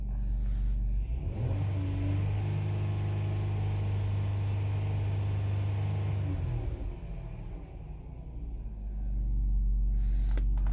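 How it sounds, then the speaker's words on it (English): A Dodge Journey 3.6L engine revs up hard from idle, a loud steady rising drone held for several seconds before falling back to a lower rumble, then swelling again near the end. "Rev up the engine, RPM goes up, pressure goes up."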